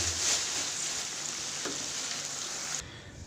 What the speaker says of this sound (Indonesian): Sekarang kita goreng bawangnya teman-teman.